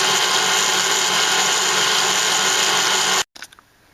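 Electric mixer whisking egg whites to stiff peaks runs loud and steady with a high whine, then cuts off abruptly, leaving a few faint clicks.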